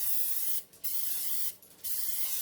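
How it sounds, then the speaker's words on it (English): Cooking spray hisses onto a cake pan in two short, quiet bursts about a second apart, with no other sound around them. "Alright, so I'm going to spray the pan."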